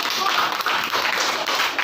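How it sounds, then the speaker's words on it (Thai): A classroom of children clapping for a classmate, a dense, steady patter of many hands that is loud and close, with a voice over it. "ปรบมือให้เพื่อน"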